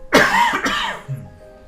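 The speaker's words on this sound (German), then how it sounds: "Sorry wegen dem Husten" A person coughs once sharply and close, followed by a second rougher cough and a faint throat-clearing rasp as it trails off.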